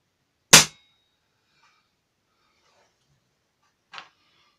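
A Webley Typhoon air pistol fires through a chronograph with one sharp, loud crack, followed a few seconds later by a fainter, shorter snap. Quiet surrounds both.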